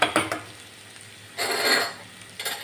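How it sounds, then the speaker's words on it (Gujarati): Gram flour roasting over a medium flame in a pan with garlic and ginger, stirred with a utensil that gives a few clicks and scrapes between soft bursts of sizzling, close and without any talk. "ચણાના લોટને આપણે મીડિયમ ગેસ ઉપર એકદમ સરસ રીતે શેકી લેવાનો છે."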